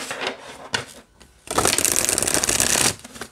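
Tarot cards on US Games Systems cardstock, Universal Folk Tarot deck, being shuffled up close: a few short riffles and then a dense, crisp flutter of about a second and a half, with no talking.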